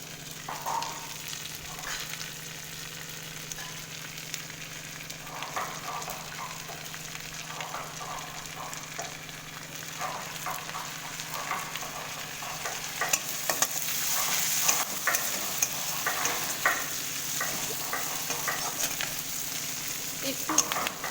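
Black cumin seeds frying in hot oil in a pan, a continuous crackling sizzle that grows louder and busier toward the end, with occasional stirring scrapes and clinks, no talking.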